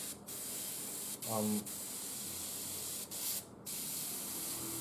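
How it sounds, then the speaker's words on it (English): An airbrush loaded with thinned acrylic paint sprays in short bursts, giving a steady close hiss broken by brief pauses, with a faint voice under it. "You make sure you test spray it"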